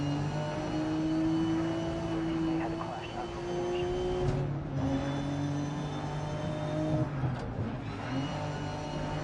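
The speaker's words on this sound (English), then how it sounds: "it could be a transmission making that whining sound" An all-wheel drive car's transmission whines as it drives, a steady high-pitched whine that rises and shifts in pitch over engine noise, with a couple of brief dips, while a voice talks over it.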